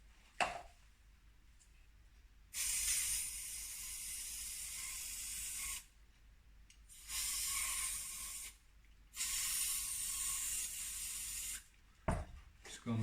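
A new aerosol tin of brake cleaner sprays in several long hissing bursts of a few seconds each, close and steady, separated by quiet pauses with faint handling clicks in a motorcycle workshop.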